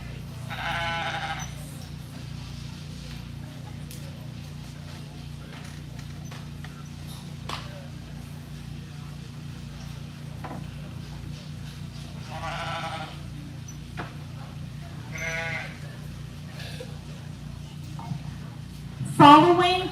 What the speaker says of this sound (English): Our final class of commercial ewes are exhibited by 3 of our seniors.